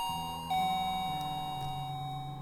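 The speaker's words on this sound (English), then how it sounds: "The doorbell rings again" A doorbell chimes, a clear tonal ding-dong that rings out and lingers over a quiet indoor background, with no one talking.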